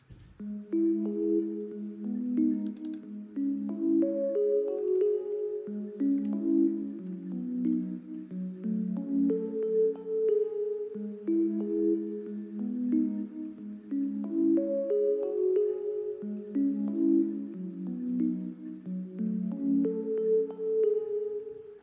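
An electric piano plays a repeating melody of layered chords and notes for an urban modern zouk track in Logic Pro X, steady and clear with no talking.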